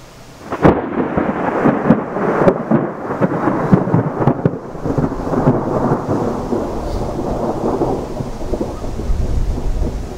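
A tornado-producing supercell thunderstorm near Breton, Alberta, brings loud cracking thunder that rolls into a long, sustained rumble over a steady wash of rain, with no voices.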